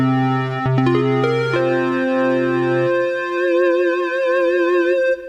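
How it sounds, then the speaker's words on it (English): A keyboard voice with articulation changes plays a rising run of notes that settle into a held tone, which then takes on a wavering vibrato and altered timbre before cutting off. "This is the voice articulation function."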